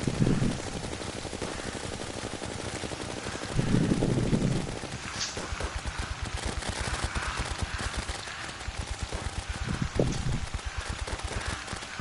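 Rapid-fire gunshots in the game Terraria, aimed down from the edge of a rooftop at enemies below: a steady stream of quick, clipped shots with a few heavier bursts, and no talking.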